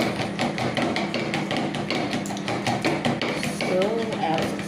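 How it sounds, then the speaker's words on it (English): Eggs being whisked by hand in a bowl, a fast run of sharp metallic clicks and taps repeating steadily throughout at close range. "I have whisked it already"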